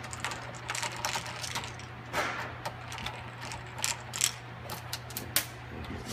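Small screws being backed out of an iQ unit's circuit board, giving faint, irregular clicking and ratcheting ticks over a steady low hum, close by and quiet.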